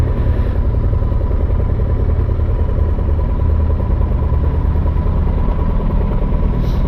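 Motorcycles, including a 2008 Kawasaki Concours 14, pulling into a gas station, a loud, steady engine rumble held close throughout with a slight clattering texture and no talk.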